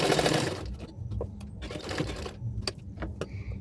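A domestic sewing machine runs in short bursts of rapid stitching while sewing the front hook strip of a double katori blouse, fairly close and loud, with brief pauses and small mechanical clicks between runs.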